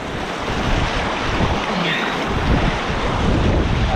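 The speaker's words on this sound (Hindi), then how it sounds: "पानी का बहाव भी तेज़ है इस वक्त।" Fast-flowing cold stream water rushes loudly and continuously over rocks, a dense close-up roar mixed with wind buffeting the microphone.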